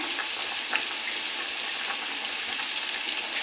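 Steady, soft sizzling of garlic and ginger frying in a pan, a continuous hiss with faint crackles and occasional stirring clicks.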